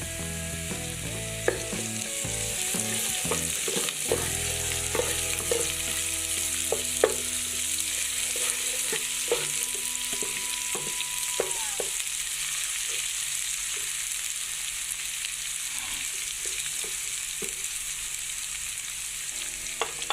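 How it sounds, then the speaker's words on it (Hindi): Continuous sizzling and crackling of garlic frying in a hot pan with onions, with occasional stirring clinks and scrapes, close and steady throughout. "अब मैं इसमें लहसुन डाल दूँगी।"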